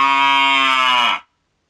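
A cow moos in one long, steady, loud low call lasting just over a second, close and alone, ending abruptly into silence.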